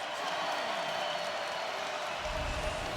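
The basketball arena crowd roars at a Missouri timeout in a Florida vs Missouri NCAA men's game, a loud, sustained wash of cheering and clapping with a low rumble swelling near the end.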